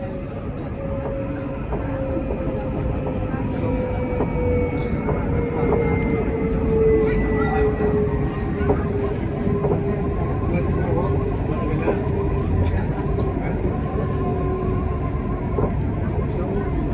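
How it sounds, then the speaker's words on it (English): Nottingham tram 203 passes the Bulwell Forest level crossing with a steady low rumble and a faint high whine, growing slightly louder mid-pass, with occasional wheel clicks and someone speaking briefly. "Here's Tram 203."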